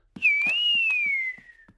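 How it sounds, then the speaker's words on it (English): A single clear whistled tone from a cartoon piglet, rising slightly then gliding gently downward for over a second, with faint soft rhythmic thumps beneath it and no talking. "George can whistle."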